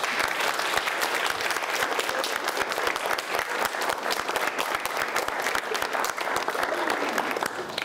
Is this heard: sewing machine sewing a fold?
no